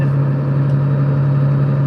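International 1486 tractor of about 140 to 150 horsepower pulling a 4-row cultivator through a bean field, a loud, steady diesel drone with a strong constant hum and no letup.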